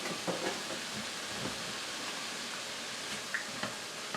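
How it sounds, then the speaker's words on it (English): Soft, steady crackling sizzle of onions and bacon frying in a pan for a venison ragu, quiet and continuous with occasional faint pops. "Sizzling away quite nicely."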